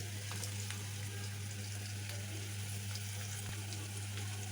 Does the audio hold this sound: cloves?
yes